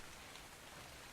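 Steady, dense rain hiss in the game I. R. Wizzard, a constant broadband wash of falling drops with no gaps, fairly quiet and heard alone without talk.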